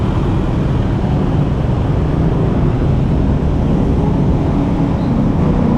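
Street noise from a traffic jam forms a loud, continuous low rumble with a wind-like hiss, steady and unbroken, with no distinct vehicles standing out.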